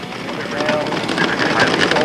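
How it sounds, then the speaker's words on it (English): A tow plane's engine revs up at a 1997 model airplane contest, readying to launch a model glider; a steady, close, broadband propeller drone holds loud through the whole two seconds. "Powering up the tow plane."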